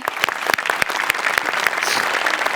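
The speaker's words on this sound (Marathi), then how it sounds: "जोरदार टाळ्या" Loud audience applause fills a studio comedy-show setting, dense rapid clapping sustained throughout with no voices over it.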